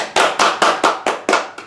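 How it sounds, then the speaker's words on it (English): Hands clap in a steady, even rhythm, about eight sharp claps close and loud, during a Hobbit Strategy Battle Games show. "Let's give the Strategy Battle Games a little round of applause"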